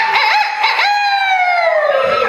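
A voice imitates a rooster's crow in one long, loud, rising-then-falling call with a strained, warbling start.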